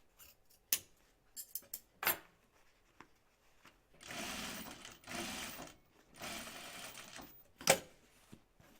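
Sharp scissors snip through several stacked layers of bag fabric, a few short quick cuts at first, then longer rasping cutting bursts and a final crisp snip, close up and alone with no talking.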